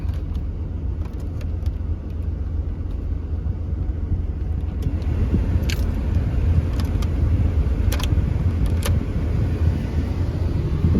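A 1993 Chevrolet Suburban two-wheel-drive with a 350 cubic-inch 5.7-litre V8 runs steadily throughout, a low continuous engine rumble heard from inside the vehicle, with a few faint clicks and rattles and no talking.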